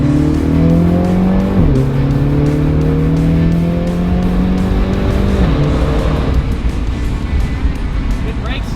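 MINI JCW Countryman driven hard at a dealership, engine revs climbing through gears with quick shifts, then easing off as the car slows; loud and close from inside the cabin with people talking over it.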